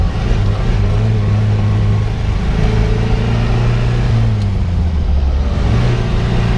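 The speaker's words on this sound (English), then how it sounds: "I'm going to push the clutch in, put it in overdrive." A 1966 MG MGB Roadster engine droning loudly and steadily as the clutch is pushed in and overdrive is engaged, with a constant low rumble and road noise throughout.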